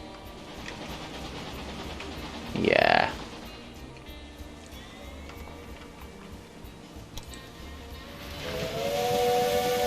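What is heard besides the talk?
trains running in video game Railway Empire 2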